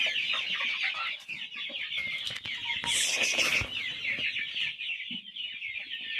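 Chickens on a poultry farm cluck continuously at close range, with a dense chorus of bird calls, brief wing flaps and a louder burst of squawking near the middle.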